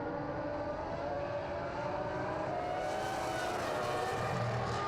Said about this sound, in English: As Max passes me, the RB20 just looks planted, even in these conditions